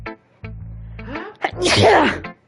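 A loud, close sneeze bursts out after a few quick gasping breaths, with a short voiced sound just before it.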